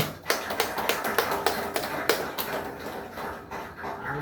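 Audience applause at a church sermon gathering, a steady wash of clapping with sharp individual claps standing out near the front, moderately loud throughout.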